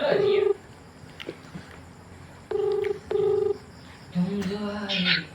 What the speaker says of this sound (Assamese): ফোন লাগি আছে